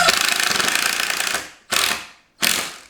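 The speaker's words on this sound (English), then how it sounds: "we're going to continue screwing the frame" A power driver whirs as coarse-thread screws go into a wooden platform bed frame: one long buzzing drive followed by two short bursts, loud and close.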